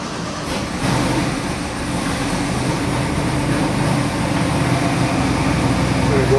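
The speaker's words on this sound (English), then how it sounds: "I got your 1950 Chevy Truck here on the dyno. Actually, the engine. And it's an LS 427." A 427 cubic inch LS engine for a 1950 Chevy truck runs steadily on a dyno, a constant loud droning rumble with a slight swell near the start and no break throughout.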